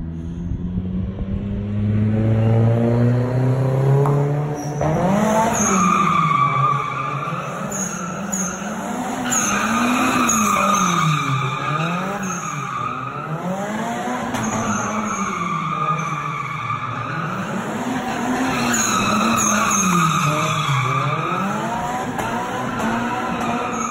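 A Nissan 240SX slides around with long, wavering tire squeals over a revving engine, the screeching rising and falling repeatedly and loud throughout.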